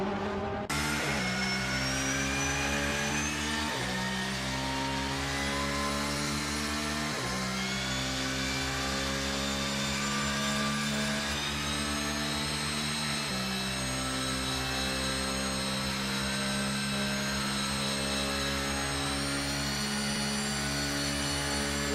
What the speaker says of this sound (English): You get to gear 6, you get high in the revs, you're going to hear that boost coming on.